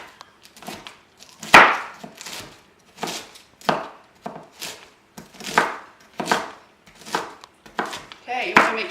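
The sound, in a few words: knife finely chopping cabbage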